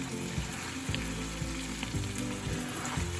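Chicken ghee roast frying in a pan, pieces turned over: a continuous close sizzle of hot ghee with a series of soft thuds and scrapes as the pieces are flipped, steady and moderately quiet.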